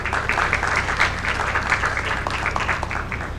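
An audience at a public forum on violence prevention in Cali claps in sustained, dense applause, fairly close and steady for several seconds.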